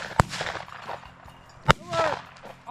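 Two sharp shotgun blasts during a pheasant hunt in open upland country, about a second and a half apart, loud and near, with some brief talk and rustling in between.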